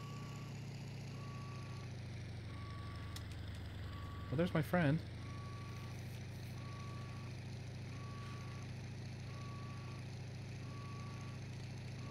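A warning tone beeps at a regular steady rhythm about once a second over a constant low engine drone in the WWII flight simulator IL-2 Sturmovik 1946, with an overheating engine; someone speaks briefly partway through.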